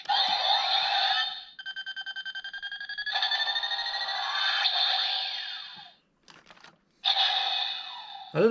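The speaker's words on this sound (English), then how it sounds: "the beeping sounded more like a bomb noise" A Seiza Blaster toy gives off loud electronic tones: a rapid burst of repeated beeps, then sustained warbling and sweeping chimes, a short pause with faint clicks, and another tone burst.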